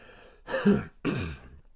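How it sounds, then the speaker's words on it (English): Two short, rough throat-clearing bursts close to the mic, separated by a brief pause, with no talking. "I'm going to clear my throat a little"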